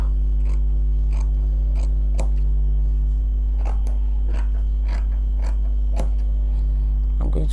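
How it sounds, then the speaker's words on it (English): Scissors snip through material to cut out a shape for a turban cap, each crisp cut repeating in an uneven rhythm close up over a loud, steady low hum. "I'm going to cut off that shape."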